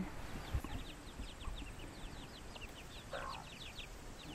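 Backyard chickens from a small flock cluck and chirp in short repeated calls over a steady outdoor hum, fairly faint and somewhat distant, with no talking.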